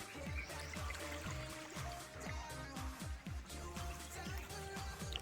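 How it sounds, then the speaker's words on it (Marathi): Small hillside spring near Sambhaji Nagar with very low flow, water trickling and dribbling in quick gurgling pulses, faint and close, with no voices. "पाणी वाहतंय खाली"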